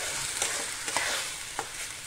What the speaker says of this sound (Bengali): এবার এটাকে ভালো করে ভাজতে হয়